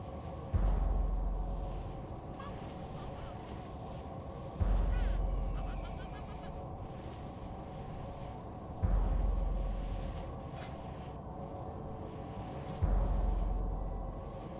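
Fireworks go off at a World of Warcraft guild remembrance event, four deep booming bursts spaced about four seconds apart, each fading slowly over ambient game sound.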